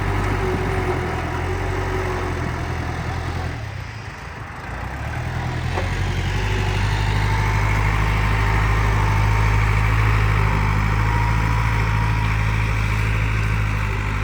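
An Iseki NT554 tractor's diesel engine runs steadily at idle, a constant low rumble with a brief dip in level partway through, then holding even to the end.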